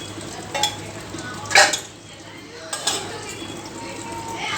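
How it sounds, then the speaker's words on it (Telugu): Oil goes into a pan with a steady low hiss of sizzling, broken by a few sharp clicks and clatters of utensils against the pan. "ఆయిల్ వేస్తున్నాను."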